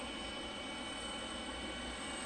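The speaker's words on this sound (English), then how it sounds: "And there's a plane we don't see very often. The old Boeing 717." Boeing 717 jet airliner at Detroit Metro Wayne airport near gates 53 to 59: a faint, steady engine roar and whine from a distance, continuous and even, with no voices.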